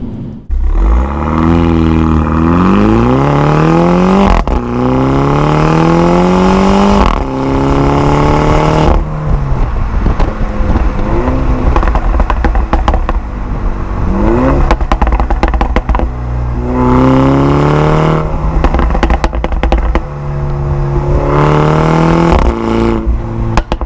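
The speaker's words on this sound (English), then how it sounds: "that exhaust sounds so good" Exhaust of a 2019 Mini John Cooper Works Hardtop on a test drive, loud and close, revving hard and climbing through the gears again and again, with brief drops between shifts.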